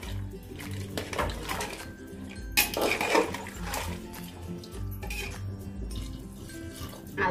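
A potato and pointed gourd curry with water is stirred in a pan, giving close, continuous watery sloshing with scraping and occasional metallic clinks. There is no talking.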